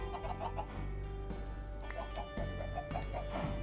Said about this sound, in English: Alright, chickens.